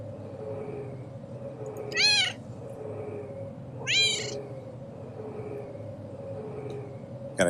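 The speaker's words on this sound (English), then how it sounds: "Got a cat on me right now." A real house cat meows twice, close and moderately loud, with short rising-falling cries about two seconds apart over steady background hum from Half-Life gameplay, with a third faint chirp at the end.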